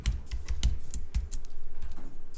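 A single word is typed into a web search on a computer keyboard, with sharp close keystrokes in an uneven rhythm, clearly audible with no speech.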